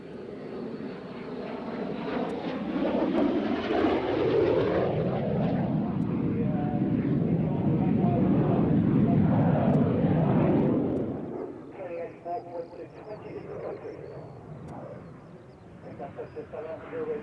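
A BAC Strikemaster single turbojet aircraft flies past at the Waddington airshow, a loud broad jet roar that builds, holds, then fades, with a commentator talking over it.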